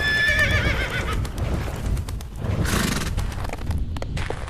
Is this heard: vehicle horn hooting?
no